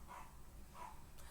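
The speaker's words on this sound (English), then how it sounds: "sorry, the neighbor's dogs are fighting" Dogs barking somewhere near, two short, faint barks about half a second apart in a quiet room, with no other sound around them.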